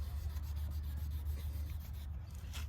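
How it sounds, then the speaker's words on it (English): Possible gold being scraped across a jeweler's test stone, a soft steady rubbing rasp repeated in short strokes, close and fairly quiet against a low background hum. "scrape what may or may not be gold on here"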